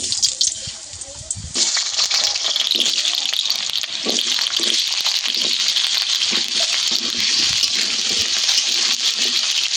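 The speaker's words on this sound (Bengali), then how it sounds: "গরম হয়ে গেছে এবার আলুগুলো ভাজার জন্য দিয়ে দেবো" Potatoes dropped into hot oil in a heated wok burst into a loud, sudden sizzle that stays as a dense, close, continuous crackling hiss.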